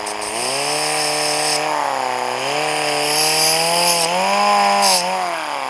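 A power tool whines steadily while deburring a metal part in a garage air compressor repair, a high buzzing drone with slight pitch dips as it bites, continuous and close with no voices.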